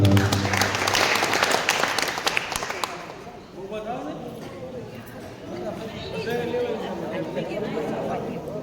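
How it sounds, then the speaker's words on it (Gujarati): Applause from the audience at a religious discourse gathering in Haridwar, Uttarakhand, a dense burst of many hands clapping at once that fades after about three seconds, followed by murmuring and voices from the crowd. "એના આમંત્રણને માન આપી તાળીઓના ગડગડાટથી વધારો."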